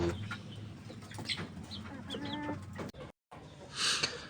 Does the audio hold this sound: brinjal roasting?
no